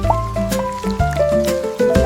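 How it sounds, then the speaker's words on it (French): Playful dripping and plinking water-drop effects in a children's song, a close, bright run of liquid blips and pitched drops in a bouncy rhythm, some sliding in pitch. "Chaque goutte fait plink, puis plonk, puis patte, un battement de tambour dans mon chapeau"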